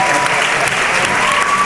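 Audience applause from a crowd at a hearing, loud, dense and continuous clapping with no break, close and filling the whole moment.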